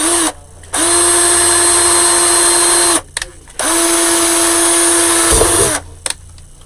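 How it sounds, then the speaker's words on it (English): A power drill bores holes in a winter doorhanger decorated with skates, two sustained whirring runs with a brief pause between, each spinning up sharply and stopping abruptly, loud and close with no talk. "Alright, I'm going to drill 2 here."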